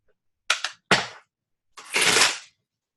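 Quick riffling bursts of cards, two short shuffles followed by a longer rippling one, close and crisp.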